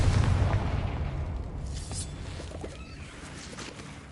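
In the Hogwarts Legacy video game, a Confringo spell explosion booms loudly at the start, then rumbles and slowly fades away over several seconds.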